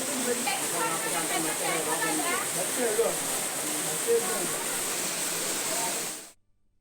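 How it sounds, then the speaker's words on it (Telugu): Heavy, continuous rain pours down in Vijayawada during a downpour that caused landslides, a dense steady hiss filling the clip, with people talking faintly underneath before the sound cuts off abruptly. "విజయవాడలో ఏకధాటిగా కురుస్తున్న వర్షానికి కొండ చర్యలు విరిగిపడుతున్నాయి"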